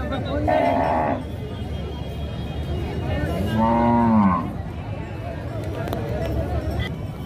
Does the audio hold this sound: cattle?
yes